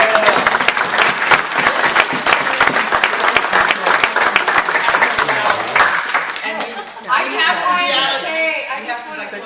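Sustained audience applause fills a city council meeting room, dense and loud for several seconds before thinning out into scattered claps and murmuring crowd.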